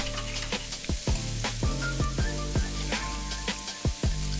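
Onions, peppers and garlic sizzle in a pan, a continuous frying hiss broken by repeated sharp metallic scrapes and clanks of stirring at an uneven rhythm.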